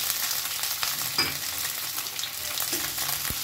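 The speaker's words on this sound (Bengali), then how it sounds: "এবারে ওই তেলের মধ্যে আমি দিয়ে দেব কেটে রাখা ক্যাপসিকাম, আর দিয়ে দেব ডুমো করে কেটে রাখা পেঁয়াজ।" Capsicum and diced onion frying in hot oil for chilli gobi: a steady, loud broadband sizzle runs throughout, with a few soft knocks of a spoon stirring the pan.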